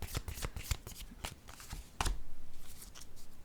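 Playing cards riffled and shuffled in a quick run of crisp, close flutters and snaps, with a louder burst near the end, no voices.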